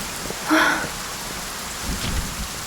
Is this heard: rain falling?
yes